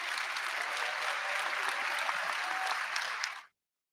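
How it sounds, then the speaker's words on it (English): A panel discussion audience claps steadily for a few seconds, a full even round of applause that cuts off abruptly. "Let's get a round of applause for our panelists."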